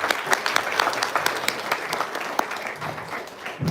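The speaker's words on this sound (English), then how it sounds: "Big round of applause for that." Audience applause at an academic capacity-building programme on India's anti-corruption legal regime, a dense and steady clapping from a seated crowd that carries evenly through the whole stretch without any break.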